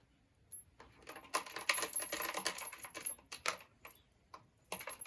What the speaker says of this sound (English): some of these washers don't make much noise